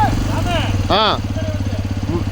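A motorbike engine drones steadily and loudly up close as it climbs a steep mountain road in the Eastern Ghats, with people speaking over the pulsing engine.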